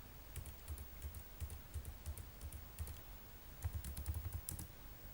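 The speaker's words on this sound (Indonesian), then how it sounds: "tinggal ketik file, lalu judul ininya" Quick bursts of keystrokes on a computer keyboard as a command is entered in a terminal, with soft clicks in short irregular clusters and pauses between, close and fairly quiet with no voices.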